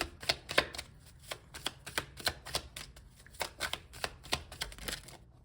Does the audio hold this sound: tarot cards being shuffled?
yes